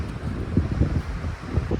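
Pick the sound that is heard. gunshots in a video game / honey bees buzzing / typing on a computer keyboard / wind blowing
wind blowing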